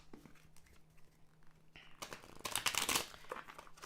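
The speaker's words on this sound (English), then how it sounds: "I'm going to shuffle the heck out of these cards this time around." Tarot cards shuffled vigorously by hand, a soft crinkling riffle that starts faint and builds into a louder, dense burst of rustling card slaps near the end.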